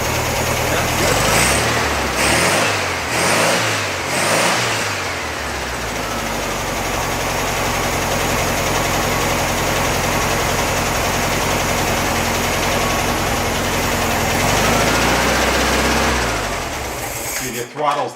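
A trash-picked replacement engine in a VW Beetle runs steadily after an engine swap, with a throttle partly blocked by tape; several revving pulses open the run, then a continuous idle drones on beneath nearby voices.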